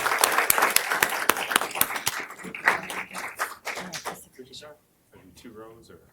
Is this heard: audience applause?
yes